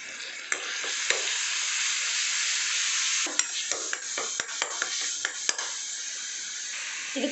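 Onion paste fries in hot oil for a chicken curry, a loud, dense, even sizzle that holds steady before turning choppier with scattered sharp spatter pops and light stirring clicks later on.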